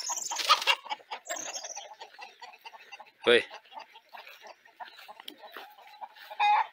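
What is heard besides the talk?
chickens clucking on their roost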